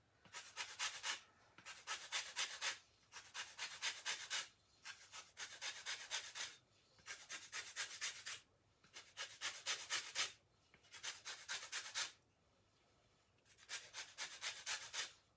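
Lemon zest is grated on a hand grater in about eight rhythmic bursts of scratchy rasping, each lasting a second or so, separated by short pauses, close and fairly quiet.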